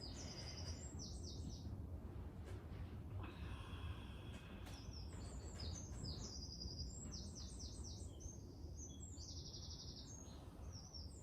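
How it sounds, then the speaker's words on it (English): Spring birdsong outdoors: several birds chirp and trill in bright repeated bursts, near and far, over a steady low background hiss with no talking. "Just listen to that beautiful tweeting."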